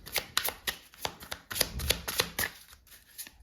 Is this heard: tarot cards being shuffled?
yes